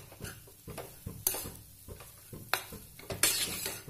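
Red chili powder and turmeric being mixed for a moong dal kachori filling, heard as a run of close spoon clinks and scrapes against a bowl in an irregular rhythm, with no talking.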